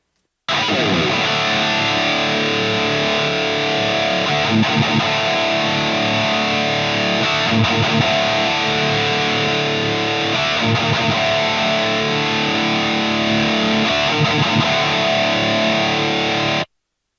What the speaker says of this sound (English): I'll just turn the enhancer on and off as I hit a chord